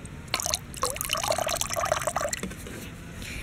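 pH plus solution being poured into the water of a tower garden, a close, gentle trickling and splashing that runs for about two seconds and then fades.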